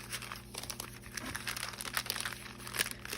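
Soft crinkling and rustling of a paper lunch bag being slid inside another bag, close and quiet, a continuous papery scrape with small crisp crackles over about three seconds.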